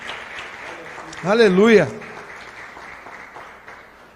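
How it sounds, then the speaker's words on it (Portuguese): A church congregation applauds steadily throughout, with a voice briefly calling out in a drawn-out, sung tone over the clapping midway. "Você pode aplaudir a Jesus?"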